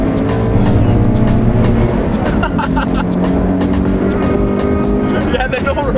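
A Toyota GT86 with a naturally aspirated 2-litre Subaru engine pulls hard in second gear, the engine note rising steadily and loud from inside the car, with sharp shift or intake clicks and a voice speaking over it.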